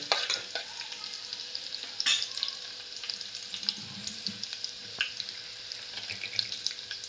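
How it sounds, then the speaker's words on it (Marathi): Mustard seeds crackle and onion fries in hot oil with a soft, steady sizzle. Scattered sharp pops and light stirring scrapes occur throughout, without voices. "राई पण चटचट झाली आहे आणि कांदा पण आपल्याला लाल"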